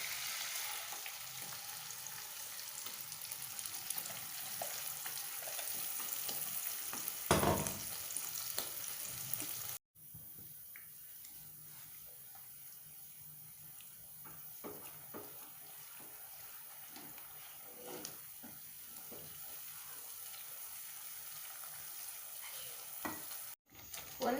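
Ground masala paste frying in butter, with a soft bubbling sizzle and stirring scrapes in the pan. A louder burst in the first ten seconds gives way to a quieter, steady sizzle, all fairly faint.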